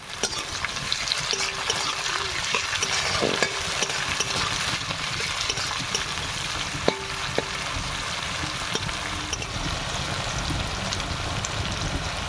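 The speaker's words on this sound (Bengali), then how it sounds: "একটুখানি খুন্তি দিয়ে নাড়াচাড়া করে তারপরে পেঁয়াজটা দিয়ে দেবো।" Two onions fry in a pan with a steady crackling sizzle, stirred occasionally with a spatula that gives a few sharp scrapes and taps over the continuous close frying hiss.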